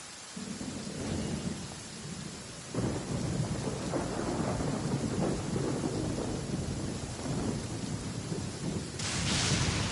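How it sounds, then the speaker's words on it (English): A Genshin Impact thunderstorm: steady heavy rain hisses throughout while deep thunder rumbles roll in and swell, loud and continuous for the whole stretch. "Only innocent children and timid adults are scared of thunder."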